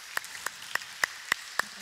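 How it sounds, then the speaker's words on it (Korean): Six sharp, evenly spaced claps ring out over about two seconds in a church service, each one crisp and fairly close, with no voices in between. "우리 하나님께 감사와 영광의 박수 올려드리겠습니다."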